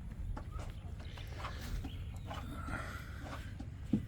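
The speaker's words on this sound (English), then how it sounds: "we got a chicken in the box scratching" A chicken in a box scratches and clucks softly, with steady rustling scratching under low, scattered clucks and a brief knock near the end.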